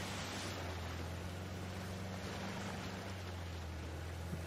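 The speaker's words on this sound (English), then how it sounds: "This engine is working? I thought I stopped the engine." Steady low engine drone of a boat idling in Uncharted: The Lost Legacy, a constant hum with broadband water and wind wash over it, with no one talking.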